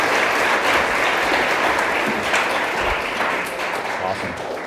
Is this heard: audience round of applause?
yes